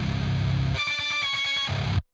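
Distorted guitar run through a pitch-shift effect with squared-off, stepped automation in Reaper, giving an abrupt jump to a choppy, rhythmic shifted tone in the middle before snapping back, short and fairly quiet.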